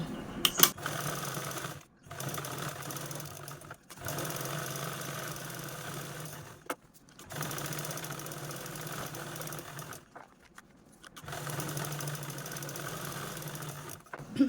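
Sewing machine quilting vertical rows of stitches on layered fabric, several runs of rapid mechanical chattering broken by short pauses between rows.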